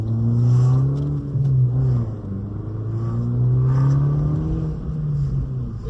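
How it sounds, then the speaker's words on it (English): A 2013 Fiat 500 Abarth accelerates hard as its turbo comes on, the engine droning loud and close with rising and dipping revs across gear changes. "Once the turbo kicks in, it really moves."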